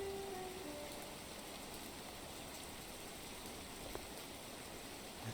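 Rain falling in a video game makes a steady, dense hiss of drops over a soft low rumble, constant and fairly faint throughout, with no speech.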